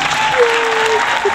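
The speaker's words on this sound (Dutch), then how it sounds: "Applaus voor Kim, jongens." Brief applause and cheering from a small group at a horse riding setting, a short burst of clapping with a voice rising over it.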